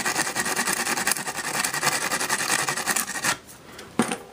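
Coarse 40 grit sandpaper rubbing on a watch band, a loud continuous rasping scrape with quick back-and-forth strokes, then a quieter pause and one brief final scrape.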